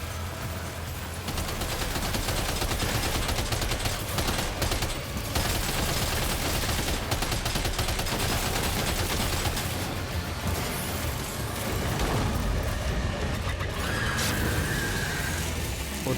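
Dense, continuous gunfire from a firefight in Death Stranding 2: On the Beach, rapid machine-gun bursts and crashing impacts layered loudly for the whole stretch, with no pause.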